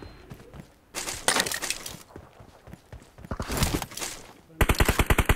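Bursts of gunfire in the battle royale game BGMI, irregular clusters of sharp shots with a rapid string of evenly spaced automatic rounds at the end, fairly loud and close.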